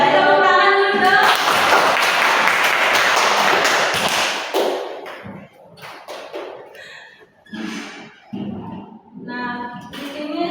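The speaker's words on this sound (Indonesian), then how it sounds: "Ya, tepuk tangan dulu dong." A class of students claps hands together in a classroom, a dense burst of clapping lasting a few seconds. A teacher's voice speaks before and after it.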